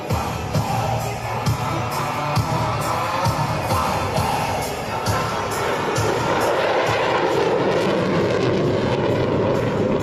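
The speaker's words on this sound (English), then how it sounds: "Today's flight demonstration will consist of both the conventional and short takeoff and vertical landing modes of flight." An F-35 stealth fighter jet flies an air show demonstration, its engine roar loud and steady throughout, with crowd noise mixed underneath.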